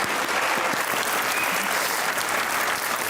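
A crowd claps loudly and continuously in a studio audience during a sports interview show, an even, unbroken roar of applause heard up close with no talk over it.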